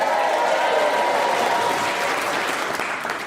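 Loud, sustained applause from a student audience in the University of Derby students' union during a recording of the radio panel game Just a Minute, a dense crowd clapping that fills the whole stretch and slowly tapers.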